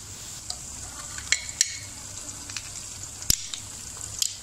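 Garlic and ginger paste sizzles gently with browned onions in a pan for a chicken kaddu dish, a quiet steady hiss broken by a few sharp clicks and clinks of stirring.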